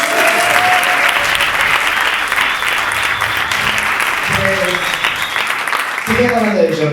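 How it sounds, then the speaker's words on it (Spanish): Audience applause at a live comedy show, dense and steady clapping from a seated crowd filling the whole stretch, with a voice breaking in briefly near the end. "Un aplauso para ella."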